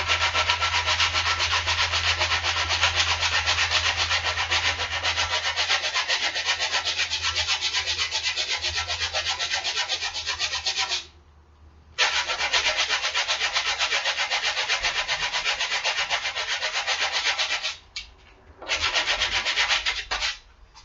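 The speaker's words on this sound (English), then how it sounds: "getting some sandpaper and sanding it" Continuous scratchy rubbing of sandpaper on a wooden rabbit cage part, close and steady, with two brief pauses before the strokes resume.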